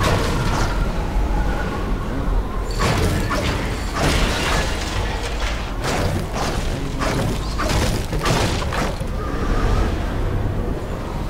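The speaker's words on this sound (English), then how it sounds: "That's how you destroy objects here in Covert Canyon." Objects being smashed and destroyed in Fortnite at Covert Canyon: repeated cracking and breaking impacts over a constant loud background of game sound.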